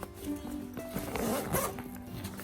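A zipper on an Under Armour UA Contain Duo 2.0 sports bag is pulled open or closed up close, giving a steady ratcheting rasp for about two seconds with no voices over it.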